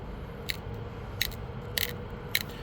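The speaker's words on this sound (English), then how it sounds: "I give it a tiny bit of pressure before I flake it, and that way if it gets like a little crunchy sound" Pressure flaking a stone during flintknapping gives four short, crisp crunching clicks, spaced roughly evenly, over a low steady background rumble.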